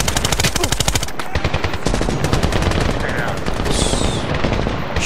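Rapid, loud bursts of automatic machine-gun fire from the World War II shooter game Medal of Honor, with dense rattling volleys, brief gaps, and scattered distant shots and effects.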